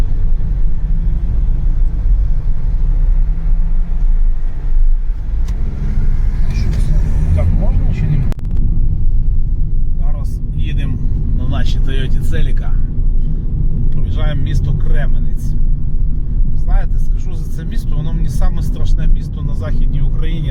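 A Toyota Celica driving on the road, its engine rumble and road noise steady and close from inside the car, with someone talking over it for much of the time.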